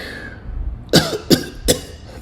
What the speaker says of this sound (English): Ooh, that dry cough.